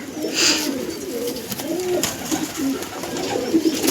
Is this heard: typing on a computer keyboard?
no